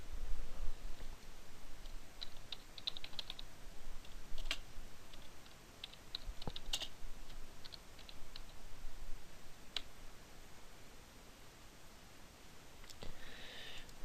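Fast typing on a computer keyboard produces quiet, close key clicks in short bursts with brief pauses between them, against a low background hiss.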